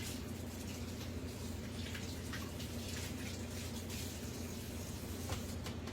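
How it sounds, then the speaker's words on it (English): Hands rinsed under a running kitchen tap while making cornbread salad: a steady, moderately faint hiss of flowing water with soft splashy flutter that continues evenly throughout. "Let me rinse my hands."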